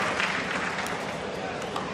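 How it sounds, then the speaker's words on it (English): At a pickleball match in Daytona Beach, a crowd applauds with a dense, steady wash of clapping that fills the whole moment at moderate distance, with a commentator's voice layered over it. "Crowd in full support of Leigh Waters in her return"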